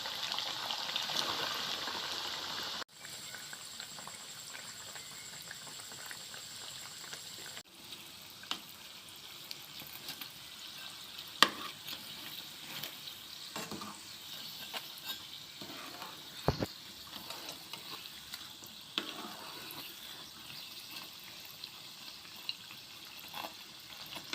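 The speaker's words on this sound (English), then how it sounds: "Time to deep fry them. Fry them until they are golden brown and crispy on the outside." Chicken pan rolls deep frying in oil give off a faint, steady sizzle with occasional soft pops and clicks, quiet and continuous with no talking.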